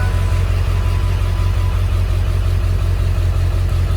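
A 1999 Ford F450 truck engine runs steadily just after start-up, a loud, even low idle rumble close by with no talking.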